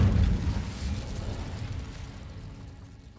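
A fire spell cast in the Hogwarts Legacy video game bursts out with a loud, low whoosh that quickly fades into a lingering rumble.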